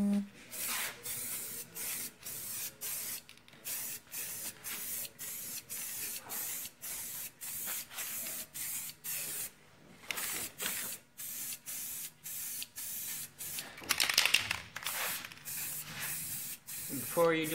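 Aerosol spray paint can spraying car rims in many quick rhythmic hissing bursts separated by short pauses, close and loud, with a louder longer burst near the end.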